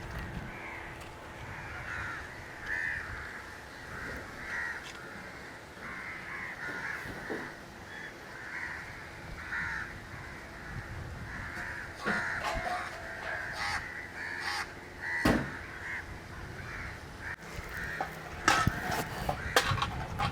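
Crows caw repeatedly around fish drying in the open air at a dry-fish production site in Kurunagar, their harsh calls near and overlapping against a steady outdoor background, with a few sharper knocks.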